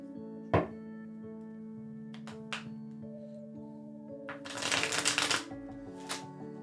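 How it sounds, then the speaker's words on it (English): Tarot cards shuffled by hand at a fortune-reading table: a few sharp taps, then a dense riffling burst of card flutter near the end, close and moderately loud over a steady background hum. "I am shuffling the cards."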